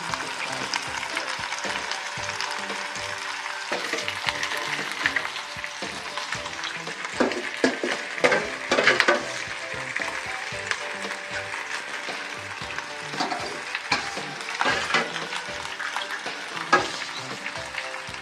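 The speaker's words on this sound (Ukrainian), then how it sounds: "І буду смажити на олії великою." Food sizzles and crackles in hot oil in a pan, with occasional stirring scrapes and clinks over a steady frying hiss.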